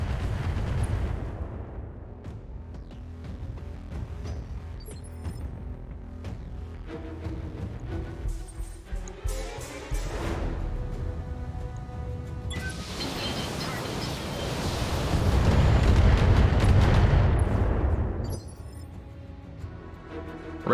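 Missile impacts in the mech strategy game BattleTech: a long stretch of rumbling, crackling blasts builds into a heavy, booming swell of explosions near the end.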